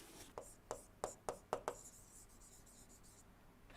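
Marker or chalk strokes on a board during a lecture on engine fuels, a quick series of about six sharp scratchy taps in the first two seconds, then quiet room tone.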